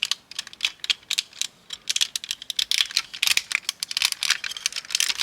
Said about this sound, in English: So get the nose cone, and then these panels down here, start tabbing those in.